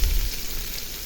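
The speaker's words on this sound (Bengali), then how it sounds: "পেঁয়াজটা ভালো করে ভেজে নেব" Onions with cardamom and bay leaves frying in oil for chicken biryani, heard as a dense, even crackling sizzle, close and fairly loud throughout the short moment.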